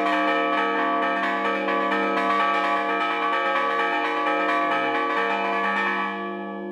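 Church bells in Aspariegos, Zamora, ring a festive toll. Loud, close and continuous, the metallic strokes overlap into a dense ringing that fades out at the end.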